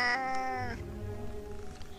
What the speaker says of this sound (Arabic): صوت قطة